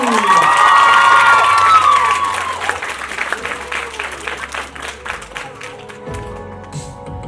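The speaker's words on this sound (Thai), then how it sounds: "ขอเสียงปรบมือดังๆต้อนรับคุณคิมซูยอน" Loud applause and shrill cheering from a Bangkok press conference crowd greeting Kim Soo Hyun, with excited screams and whoops ringing over dense clapping, then thinning into scattered claps and calls as the noise tapers.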